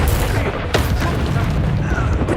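Dense, booming blast from the Expulso explosion spell in Hogwarts Legacy, a loud rumbling roar of low-end noise filling the whole moment with a sharper crack partway through.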